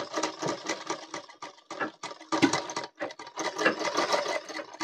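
A sewing machine stitches round a trouser belt in slow, uneven runs of close mechanical whirring and ticking, with short pauses between the bursts.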